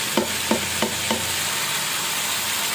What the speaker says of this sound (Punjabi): ਇਸ ਕਰਕੇ ਆਪਾਂ ਮਸਾਲਾ ਭੁੰਨਾਂਗੇ ਸਾਡਾ ਮਸਾਲਾ ਚੰਗੀ ਤਰ੍ਹਾਂ ਭੁੱਜ ਜਾਏਗਾ